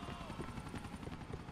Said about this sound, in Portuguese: Ah, helicóptero de merda.